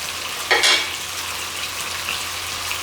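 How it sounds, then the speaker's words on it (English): Lamb sizzles and fries in a hot wok for a Cantonese stir fry with bell peppers, giving a steady, loud hiss with a brief sharper crackle near the start and no talking. "And we're going to let this fry for a few minutes on each side."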